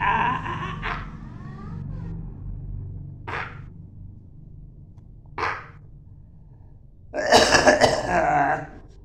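An elderly man coughing and clearing his throat in a few separate short bursts spaced several seconds apart, close by, ending in a longer rougher fit of coughing, with a low hum underneath.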